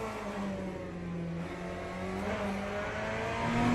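Race car engine in the Le Mans Ultimate sim racing game, a steady drone with faint rising rev spikes toward the end, heard alone without talk.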